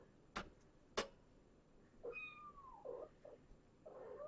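Kittens in a box after a vet visit, a few faint, quiet meows and small cries following two sharp taps, heard close and without any talking.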